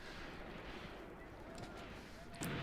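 Artillery firing a smoke mission in the Graviteam Tactics war game during the Second Battle of Kharkov, heard as a low, steady battlefield rumble with a few faint distant thumps and a sharper burst near the end.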